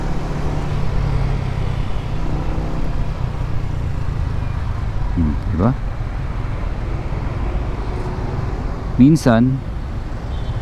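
Continuous road traffic in December, a low steady rumble of cars and heavy vehicles close by, with brief speech breaking in twice over the noise.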